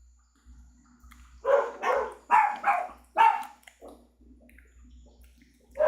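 Several dogs bark at a passing truck in a quick run of sharp woofs, close by, then a few softer barks trail off; no one speaks.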